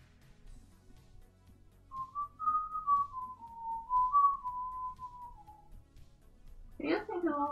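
A person whistles a short, wavering melody, soft and close, then a brief voice sound follows at the end.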